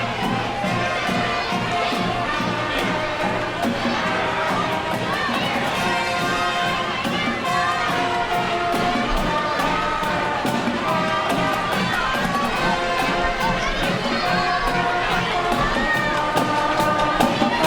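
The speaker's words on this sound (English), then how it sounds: "The big crowd has turned out." A large parade crowd along the route cheers and shouts continuously, loud and dense, with children's voices and band music mixed into the roar.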